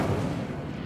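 A fire spell going off in Hogwarts Legacy, a dense rumbling burst of flame with a low boom that sustains steadily through the short moment, loud and close with no talk over it.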